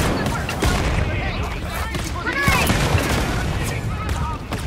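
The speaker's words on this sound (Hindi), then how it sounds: "ये हथियार बड़े देर बाद मैंने यूज़ किया और बहुत ज़बरदस्त है भाई" Rapid weapon gunfire rattles through a firefight in the shooter game Wolfenstein: Youngblood, loud and dense bursts overlapping with explosions, mixed with a voice talking over the action.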